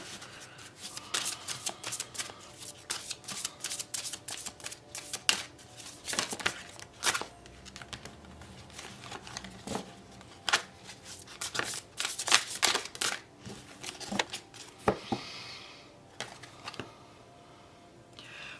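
Tarot cards shuffled by hand make a continuous run of crisp riffling flicks and soft slaps, close and fairly quiet, with no voice.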